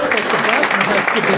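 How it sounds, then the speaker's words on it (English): A brief burst of audience applause for panelists at an advertising technology event: continuous, fairly loud clapping with a murmur of voices mixed in. "Round of applause to our panelists and Stuart."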